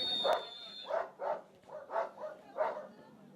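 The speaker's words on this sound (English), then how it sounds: "Safely past the dogs, the rabid dogs." Dogs bark beside an urban downhill bike course in Valparaiso, giving a quick run of about seven sharp, fairly loud barks in a steady rhythm with no talking.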